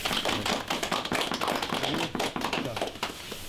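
Soldiers at a 32nd Infantry Division sniper training course break into steady, close applause, dense overlapping claps running the whole stretch without pause.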